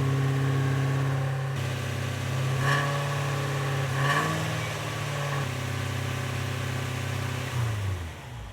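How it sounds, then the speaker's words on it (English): A Discovery engine idles too high, a steady, even mid-pitched drone close by that holds the same note throughout and sags slightly at the end. "Okay, that idle is way too high."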